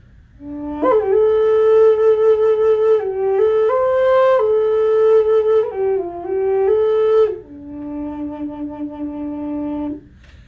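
A breathy flute plays a short melody of about ten held notes, stepping up and down, close and clear over light background hiss.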